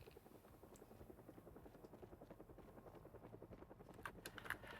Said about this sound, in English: Up, and there's the helicopter.